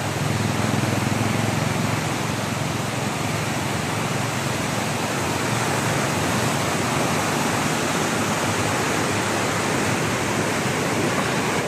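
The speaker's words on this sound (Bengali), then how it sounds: "দেখুন এখানে এইভাবে জল ছেড়েছে, এই ব্যারেজ থেকে জল ছেড়েছে" Released water from a barrage at Mukutmanipur rushes past in a loud, steady, broadband roar, continuous and close throughout with no voices.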